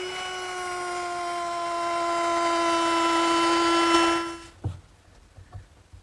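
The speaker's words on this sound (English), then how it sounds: "I just set my router up with a chamfering bit." A router fitted with a chamfering bit whines at a steady high pitch as it cuts along the edges of a wooden shop cabinet top, growing slightly louder before spinning down, followed by a few light knocks.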